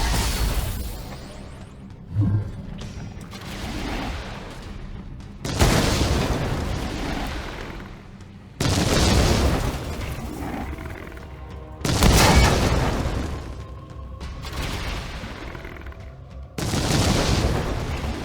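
Repeated missile explosions in the video game Chaos Gate, heavy booming blasts landing in a series of about five loud bursts, each with a long rumbling decay.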